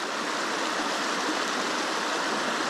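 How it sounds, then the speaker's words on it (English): Water rushing down a stream in the Australian bush, a steady, dense, hissing flow that fills the whole moment without pause or voices. "the water's rushing down here"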